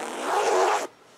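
Zipper on a soft velvet project bag with a beaded pull, drawn in one smooth, close, fairly loud pass lasting under a second, then stopping abruptly into quiet.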